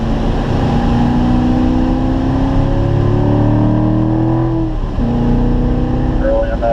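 A Corvette on the Spring Mountain race track accelerates hard at full throttle, its engine note climbing steadily, dipping briefly at a shift and rising again, loud and close, with an instructor talking over it.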